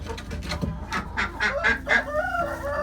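Several soft clucks and throaty grumbles from a broody hen, close and fairly loud, coming in an irregular run of calls with no talk over them.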